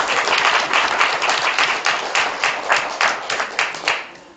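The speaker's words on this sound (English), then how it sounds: "Let's give Claudia a nice round of applause." A crowd applauds steadily, dense clapping holding a fairly even loudness and thinning slightly toward the end.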